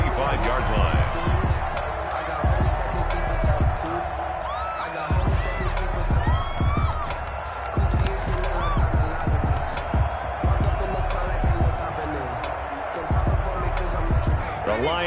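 Stadium crowd noise from an American football video game hums as a constant distant roar beneath frequent play-by-play commentary.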